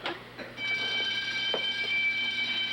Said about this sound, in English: You set off the burglar alarm.